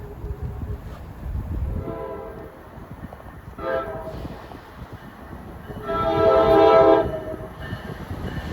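A double-decker push-pull commuter train runs through Rahway station on a fast run toward the North Jersey coast. Repeated loud horn blasts swell over the rumble of passing cars, the longest and loudest blast coming last.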